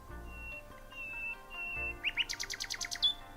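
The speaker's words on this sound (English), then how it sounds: "Among these trees lived a nightingale which sang so wonderfully" A nightingale among trees sings a quick burst of rapid, high chirping notes that pulse in a fast trill near the end, faint and short, after a quiet stretch with a thin whistle-like tone.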